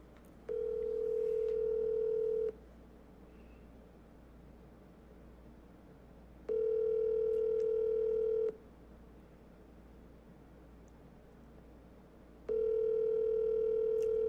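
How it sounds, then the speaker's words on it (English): Ringback tone of an unanswered phone call, three evenly spaced two-second tones separated by about four seconds of quiet, steady and clear over low background hiss. "Oh, you not gonna pick up the phone?"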